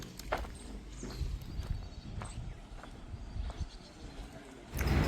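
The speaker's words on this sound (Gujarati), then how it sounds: "સારી એવી બે નોકરી વછેરી છે ઘોડિયું છે અને એક વછેરો પણ" Horses walking with mares and foals, hooves clip-clopping in an irregular outdoor rhythm at moderate distance, quiet overall, with a louder rustle at the very end.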